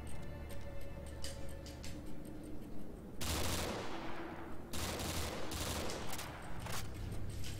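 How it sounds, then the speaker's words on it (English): Gunfire at bottles in Call of Duty: World at War zombies on a custom Nacht der Untoten map, with rapid shots over steady game ambience and one louder, longer burst partway through. "I'm going to go shoot the bottles and see what happens."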